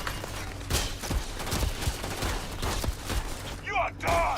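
Rapid bursts of gunfire in the video game Starfield, loud and continuous across the clip, with repeated shots and volleys layered over background battle noise.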